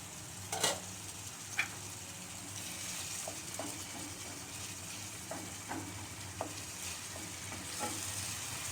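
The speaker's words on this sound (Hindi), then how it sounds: "अब मैं इसको भून लूँगी इसी मसाले में।" Tomatoes and masala frying in a pan, a soft steady sizzle with occasional light scrapes and taps of a spoon as the mixture is stirred, fairly quiet throughout.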